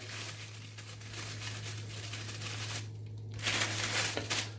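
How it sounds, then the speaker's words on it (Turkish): Close crinkling of a plastic bag being gathered and tied, rustling in bursts over a low steady hum. "Şimdi poşetimin ağzını büzüyorum ve güzelce bağlayacağım."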